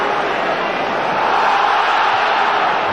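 Football stadium crowd at a Premier League match between Manchester United and Charlton Athletic, a loud sustained roar of shouting fans with no clear breaks, steady and dense throughout.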